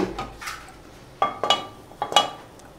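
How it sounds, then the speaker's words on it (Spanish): A frying pan set down on a stovetop while preparing a dressing for vegetarian patasca, heard as a few sharp metallic clanks and clinks, close and distinct, with short pauses between them and no talk. "Vamos a poner aquí nuestro sartén."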